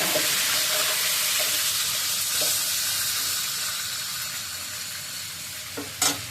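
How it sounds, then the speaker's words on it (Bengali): Fenugreek seeds and bay leaf sizzle steadily in hot oil as a tempering, a loud, even crackling hiss that fades a little near the end, where a couple of sharp clicks from a utensil stand out. "মেথি আর তেজপাতাটা ফোড়নটা আমি এখানে দিয়ে দিলাম, একসাথে ফুটে নিচ্ছি।"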